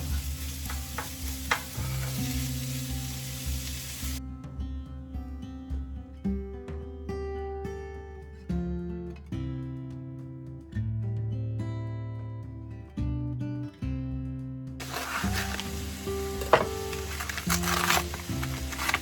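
Food sizzles and is stirred in a pan over a Coleman lantern while biscuits and gravy cook, with music playing throughout and the frying most exposed at the start and end.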